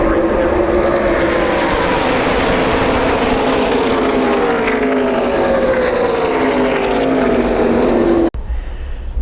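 NASCAR race cars at full speed at Talladega Superspeedway, a loud sustained roar of engines with sweeping pitch as the pack streams past, cutting off abruptly near the end.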